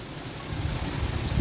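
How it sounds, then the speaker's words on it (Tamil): Heavy rain falling steadily during Cyclone Michaung, a dense continuous wash of noise with a low rumble, holding a constant level throughout with no voices. "இரண்டு நாளாக இப்படி தான் இருக்குது மழை பெஞ்சு நீர் அடிச்சு இருக்குது"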